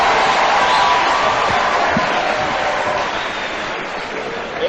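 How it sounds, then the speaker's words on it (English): A crowd applauds and cheers steadily for a young performer at a formal event attended by the Kenyan president, the clapping sustained and dense throughout before tapering slightly at the end. "Another round of applause for Otonglo Time."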